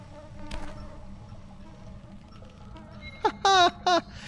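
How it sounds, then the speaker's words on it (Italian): Flies buzz in a horror video game: a faint drone sits under quiet background sound, and then loud, close, wavering buzzes come in short bursts near the end. "Vi dà fastidio il suono delle mosche?"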